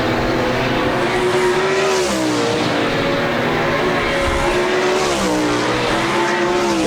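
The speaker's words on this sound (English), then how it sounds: "Nienheiser a little tight. Saw the front end shove on that Cam 2 Blue Blood Racing Oil number 9X as he come off turn number 4" 360 sprint cars racing at Park Jefferson Speedway dirt track, loud engines howling and rising and falling in pitch as cars pass close by, with a continuous roar of the field.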